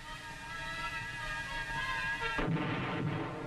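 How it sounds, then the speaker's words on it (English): Big mobile guns firing artillery during a search-and-clear operation: a continuous low rumble with a heavy, booming blast midway that rolls on, all at a distance and fairly faint, with no voices. "The big mobile guns continued to do their share in dispersing the enemy."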